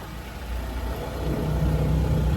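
A motorized tricycle engine on a road at Mount Makiling rumbles nearby, its mid-pitched motor note steady and then growing slightly louder as it passes, with no talking.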